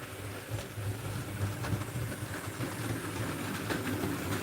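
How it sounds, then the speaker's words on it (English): A Hornby Standard 8F model railway locomotive rumbles and clicks steadily along track at moderate volume, a continuous mechanical whir with light rhythmic clatter and no voices. "The train you see it running is with my Hornby 8F."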